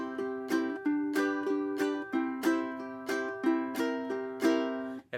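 Ukulele picked in a steady boom-chuck pattern, a single plucked note on the third or fourth string alternating with a strum, repeating evenly for about ten beats, close and clear with no voices.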